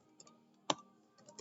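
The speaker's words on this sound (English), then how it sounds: "So I'm in a browser, and then I type in facebook.com" Keys tapped on a computer keyboard while entering a web address, a few light isolated clicks with one sharper strike in the middle, close and quiet.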